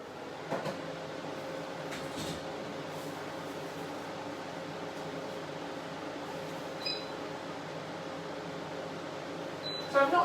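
A Soprano Ice laser hair removal machine hums steadily with a continuous mechanical drone and fan-like airflow in a private clinic room, with occasional faint clicks and taps over the unbroken tone.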